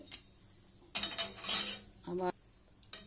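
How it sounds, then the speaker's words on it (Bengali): A fried malabar spinach leaf fritter is lifted onto a metal plate with a few sharp metallic clanks and scrapes of a utensil, close and separated by quiet gaps. "এবার বড়াটা ভাজা হয়ে গেছে, পাতার বড়াটা তুলে নিলাম থালাতে।"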